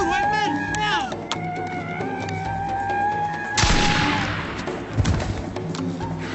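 Gunshots in a western film set in frontier wilderness, one sharp blast and a second thump breaking through tense film music and sound effects, with shouting voices.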